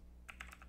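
Several quick keystrokes on a computer keyboard while entering network configuration commands, a short cluster of light clicks over a steady low hum, no talking.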